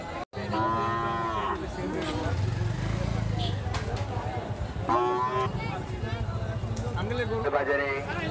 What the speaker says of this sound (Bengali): সুন্দর সুন্দর মোটা মোটা গরু চাচ্ছেন?